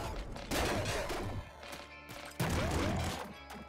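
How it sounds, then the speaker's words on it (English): A plasmite cannon fires in the top-down shooter game Nuclear Throne, two heavy crackling blasts with booming low rumble and a fizzing decay, loud and alone. "Ooh, plasmite cannon's great."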